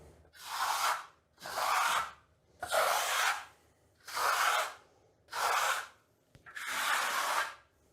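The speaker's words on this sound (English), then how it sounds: "just give it a soft burnish, just a soft compression" A trowel softly burnishes Vasari Marmorino plaster in six evenly spaced hissing sweeps, close and smooth, each about half a second long, with brief quiet gaps between strokes.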